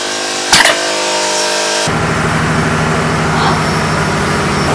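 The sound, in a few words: ship engine room machinery running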